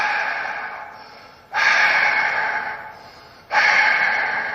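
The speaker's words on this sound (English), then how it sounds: "Will you stop heavy breathing me?" Heavy breathing down a phone line, two loud, harsh inhalations with slower fading exhales, close and alone with no talk over it.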